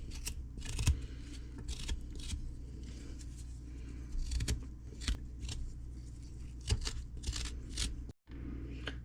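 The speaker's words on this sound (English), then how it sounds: "Just take a spoon and just scrape off the skin." A spoon scrapes the skin off a ginger root in quick repeated rasping strokes, close and fairly faint, with an irregular rhythm and one brief silent break near the end.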